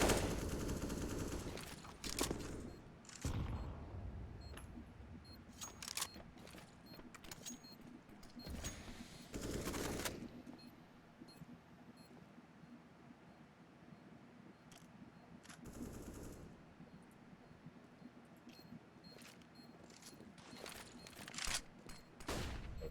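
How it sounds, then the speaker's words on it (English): Gunfire during a competitive Counter-Strike match, including an AK rifle: repeated loud bursts and single shots scattered across the stretch, some clustered in rapid volleys, with quieter game ambience between and no talk. "That's Saturn taking out Sonic and Marky almost immediately with that AK"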